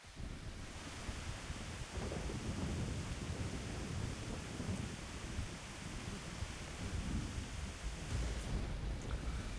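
Steady heavy rain with a deep rolling thunder rumble fills the scene in the video game Frontier, a continuous dense wash of noise with no voices.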